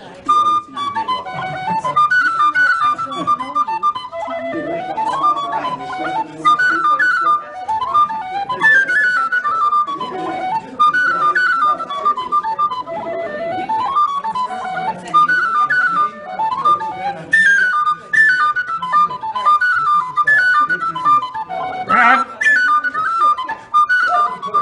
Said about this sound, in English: Tweaked D whistle.